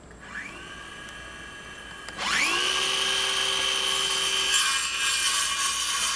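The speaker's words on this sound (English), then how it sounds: "I'm going to use the circular saw and notch this out." Circular saw notching wood during chicken coop maintenance: the motor spins up sharply with a rising whine, then holds a loud, steady high-pitched cutting drone close by.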